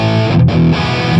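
A distorted electric guitar plays through an amplifier miked with a Shure 57, sounding bright and somewhat thin as a steady, sustained chord with a brief dip partway through, close and loud.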